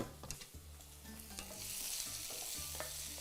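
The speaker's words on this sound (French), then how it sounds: "Sans oublier de remuer les oignons." Onions frying in a pan are stirred with a utensil, a few soft scraping knocks over a building, steady sizzle, close and quiet with no voices.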